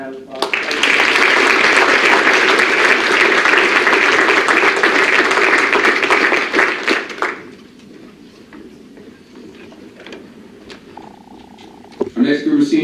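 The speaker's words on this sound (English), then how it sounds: "So give him a round of applause." An audience at a college athletics senior awards assembly applauds loudly for about seven seconds before the clapping fades into a quiet room with faint murmurs.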